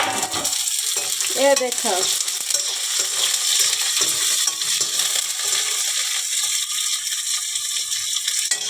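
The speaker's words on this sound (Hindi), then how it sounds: "अब प्याज भुजा संगवारी हो, थोड़ा सा भूंजना है" Onion sizzles and fries in a pan after garlic for a Chhattisgarhi idahar kadhi, a continuous close crackling sizzle with a brief spoken phrase near the start.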